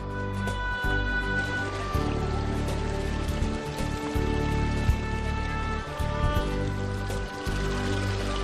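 Fountain water in the Plaza del Torico square in Teruel runs in a steady, full splash and trickle that stays close and even throughout, with a few brief dips.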